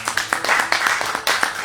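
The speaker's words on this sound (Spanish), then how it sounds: "Así que démosle un aplauso al Señor." A church congregation claps in sharp, uneven bursts during a service, several close strikes following one another over a short stretch.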